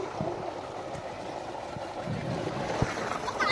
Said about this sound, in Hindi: कितना सारा पानी गिरता है ना, देखो नीचे